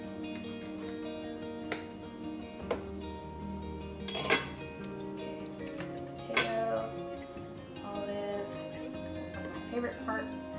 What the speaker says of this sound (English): I will grab a knife and a fork and I will do a taste really quick